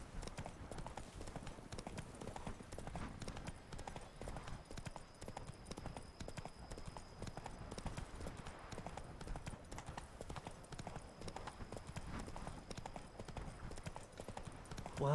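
Hooves of Roach, a horse in The Witcher 3, clip-clop at a steady trot throughout, fairly faint and constant against a low ambient game bed, with no speech.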